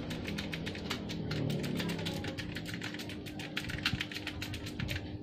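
Rapid, steady typing on an Imperion mechanical RGB keyboard, crisp clicky keystrokes in a quick continuous rhythm with a faint hum underneath.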